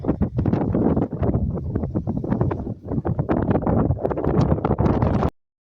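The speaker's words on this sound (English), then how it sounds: "The wind was kind of noisy." Strong gusts at a Matagorda Bay park on the Texas coast buffet the microphone in rough, rumbling bursts, loud and close, then stop abruptly.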